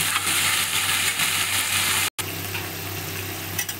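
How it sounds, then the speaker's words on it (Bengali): Rice and vegetables stirred and fried in a pan for veg pulao, giving a steady, close sizzling hiss with soft scraping and a brief cut midway; no talking. "আমি বেশ সুন্দর সবজির সাথে চালটা নেড়ে চেড়ে ভেজে নিয়েছি"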